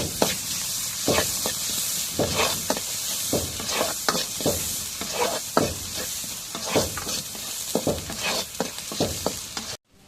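Chopped garlic and onion frying in hot oil in a home kitchen, a constant crackling sizzle broken by repeated scraping stirs of a spatula, fairly close and with no voices.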